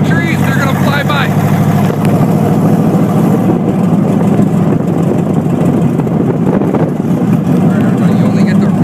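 A Chevrolet S10 with a V8 LT1 and open headers drives along, its raw, loud exhaust rumble steady and close with throttle swells, while a voice talks over it.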